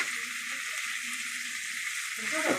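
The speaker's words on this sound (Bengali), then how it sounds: "প্রথমে পেঁয়াজটা ভেজে নিলে খেতে ভালো লাগে" Onions frying in a pan give a steady, close sizzle that runs unbroken throughout, with a faint voice-like murmur low underneath.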